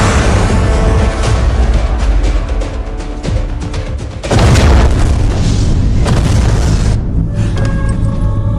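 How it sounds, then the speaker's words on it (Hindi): A missile explosion: a loud, sustained blast roars and rumbles, followed by a second heavy blast around the middle and a lingering crackling boom that fades toward the end. "सॉरी सर, मिसाइल लॉन्च हो चुकी है। 30 सेकंड में धमाका हो जाएगा।"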